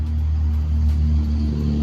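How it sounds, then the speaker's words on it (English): Steady low road rumble from passing cars near a trap line, a continuous droning hum with no talk over it. "Sorry about the road noise."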